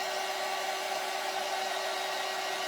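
A hair dryer blows steadily on wet paint, a loud, even whoosh with a faint whine running alone for the whole stretch.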